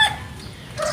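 A chicken clucks briefly at close range, with a short call at the start and another near the end over a low background murmur.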